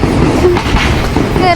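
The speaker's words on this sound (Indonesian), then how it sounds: "Kereta api. Tut tut." A metro train passes along a rural Japanese line, a loud continuous rumble with rail clatter filling the short stretch, while people talk nearby over it.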